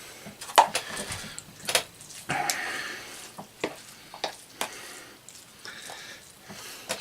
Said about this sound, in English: I'm going to stir that up in there quick.